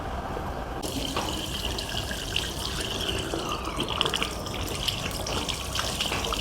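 A power steering filter from a Honda Accord rinsed under plain running water: a steady, close gush of tap water splashing continuously throughout, with no talking.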